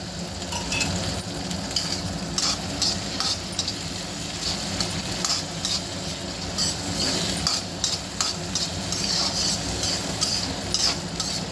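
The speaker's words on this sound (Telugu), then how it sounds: "కొంచెం ఫ్రై కావాలి ఇది పల్లీలు" Peanuts frying and being stirred in a pan while making jonna atukula popu, a sorghum flakes tempering: a steady sizzle with continuous scraping and stirring clinks, close and loud, no talking.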